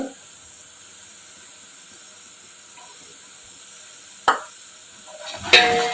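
Turmeric and red chilli powder being stirred into a pot of beef paya: a faint steady simmering hiss, then a couple of sharp spoon clinks against the pot near the end.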